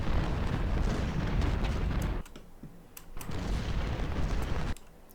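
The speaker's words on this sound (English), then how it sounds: "Penda's getting shell fire from Scales and Hazen." Artillery shell fire in the Civil War strategy game Ultimate General: Civil War, two long heavy rumbling barrages of booms separated by short quieter gaps, loud and dense.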